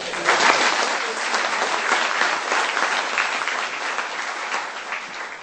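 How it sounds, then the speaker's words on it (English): A panel audience applauds Mayor Coleman with dense, steady clapping from many hands that holds at full strength for several seconds before easing slightly, close and loud, with no talk over it. "Maybe we should give him a round of applause for"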